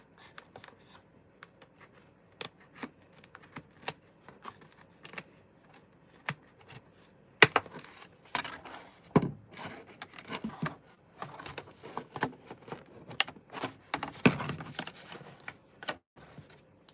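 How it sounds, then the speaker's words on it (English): Scissors snip and chop at material while finishing model rails and a gearbox, a scattered series of sharp, close clicks and cuts that grow busier and louder partway through. "I don't know why I'm chopping it with scissors."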